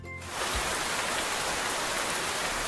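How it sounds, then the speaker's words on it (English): Steady rain falling on a surface, a dense constant hiss of drops that swells in just after the start and stays even to the end, with no voices. "Maybe we can hear God in nature, through things like trees, sunsets, and even the sound of rain."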